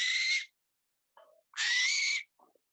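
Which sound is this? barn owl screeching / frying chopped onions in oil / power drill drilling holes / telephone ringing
barn owl screeching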